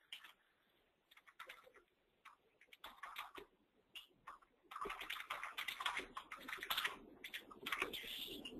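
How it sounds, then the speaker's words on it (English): Quiet clicking of computer keyboard typing in short bursts, growing denser and more continuous toward the end, with soft irregular keystrokes throughout. "So I'm going to type here"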